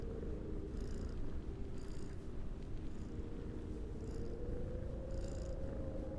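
A looped recording of a cat purring, heard as a steady, close, low rumbling purr with a rhythmic pulse repeating about once a second, with no other sound.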